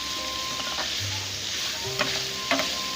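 Liver (kaleji) frying with masala on a tawa, a steady close sizzle under soft stirring and scraping, with a few sharper clicks of the spatula against the pan and no talk.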